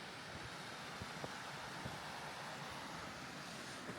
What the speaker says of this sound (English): A couple of little waterfalls here.